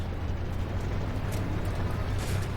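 Artillery shell explosions in the tank game Armored Warfare rumble as a dense, sustained low roar with crackling debris, loud and continuous through the moment.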